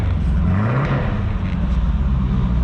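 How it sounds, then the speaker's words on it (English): An American V8 car engine idles and revs with a deep, rumbling growl, loud and close, holding a steady throaty drone with slight swells. "still getting used to American V8 sounds, but it sounds good. That's got a mean growl to it."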